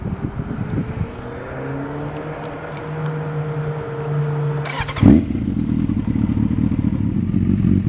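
A 1999 Kawasaki ZZR 600 sits idling steadily, then a sharp clunk near the middle is followed by a louder, fuller engine note that runs on close by without any talk.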